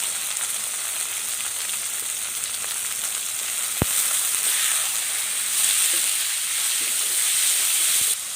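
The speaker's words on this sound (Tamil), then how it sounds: "வெங்காயத்தில் சிக்கனை போட்டுக்கிறேன்." Chicken pieces frying with softened onions in hot oil for chicken varuval, a steady close hiss and sizzle with a couple of sharp knocks from stirring.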